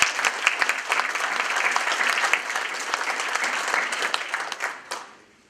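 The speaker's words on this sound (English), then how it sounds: "So if we can give them a round of applause." An audience in a meeting hall applauds committee members with dense, steady clapping that holds loud throughout, then fades out at the end.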